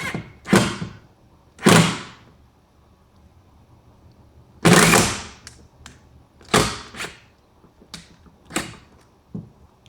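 Screw going in with a drill or driver while a solar inverter is mounted on an equipment board, heard as several short, loud bursts with pauses between, near and without talk.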